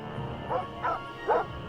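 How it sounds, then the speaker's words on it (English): Ghost dogs in the video game Nancy Drew: Ghost Dogs of Moon Lake give three quick, high yipping barks in close succession, moderately loud over a faint low background. "I'd say they're more like alien dogs."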